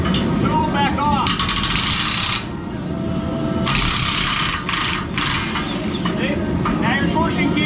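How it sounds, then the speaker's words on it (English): A torsion key tool is worked loose on a garage door spring, giving close scraping and ratcheting metal clicks in short bursts, with someone talking over it. "Then you loosen this torsion key tool back off."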